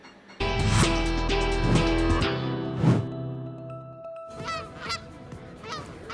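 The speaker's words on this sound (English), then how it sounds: "Love 'em or hate 'em, Canada geese seem to spark plenty of hot topic conversations" Loud honking from Canada geese, several close calls in a row, then more scattered honks at a distance, with no one speaking.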